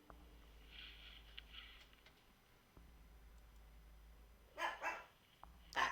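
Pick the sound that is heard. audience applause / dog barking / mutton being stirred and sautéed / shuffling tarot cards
dog barking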